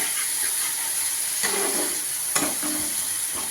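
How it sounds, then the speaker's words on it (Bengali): Masala spice paste for bhola fish curry frying in a pan, a steady sizzle with a few soft stirring scrapes and no talking. "মশলাটাকে কষাচ্ছি"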